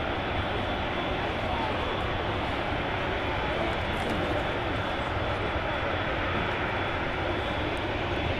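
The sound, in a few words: aircraft jet engine, plane landing at Manchester Airport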